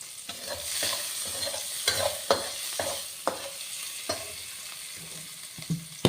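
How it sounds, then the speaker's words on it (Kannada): Onions cut in half fry in oil for egg dish, a steady broadband sizzle broken by sharp scraping stirs of a spoon at irregular intervals, close and fairly loud, with no talking. "ನೀರುಳ್ಳಿ ಪಾಡೋಣ ಅರ್ಧ ಕಟ್ ಮಾಡ್ತೀವನ್ನ ಎಣ್ಣೆಗೆ ಫ್ರೈ ಮಾಡ್ಕೊಂಡು"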